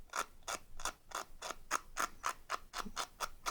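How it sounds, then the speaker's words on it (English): A thin Kanthal wire scrapes a ceramic vape coil in a steady series of about a dozen short, evenly spaced rasping strokes, close and fairly quiet, with no talk. "I'm scraping away at it. Nice sharp edge, scraping."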